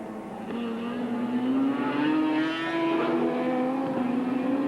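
Race cars at Amaroo Park Raceway in a 1983 Amscar Series round roar past close by, a sustained high engine whine rising and falling in pitch as they pass.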